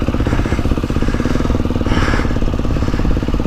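A dirt bike engine is throttled up to hop over a log on a trail: a loud, close, continuous mid-pitched engine drone that surges around the middle of the clip, with no talk.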